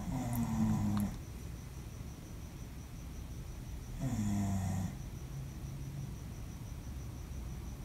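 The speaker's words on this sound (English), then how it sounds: "If you hear someone snoring in the background, it's my dog." A dog snoring nearby in a quiet room: two slow, low rumbling snores several seconds apart, each about a second long, over a faint steady background hiss.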